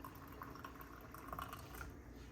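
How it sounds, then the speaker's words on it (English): Hot water pours steadily into a cup of tea for steeping, a soft continuous trickling and splashing that stays faint and even throughout. "Okay, so I'm gonna grab my hot water"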